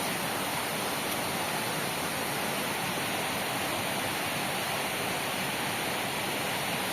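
A small waterfall in a forest near a temple gives a steady, even rush of falling water, continuous and fairly loud throughout with no voices.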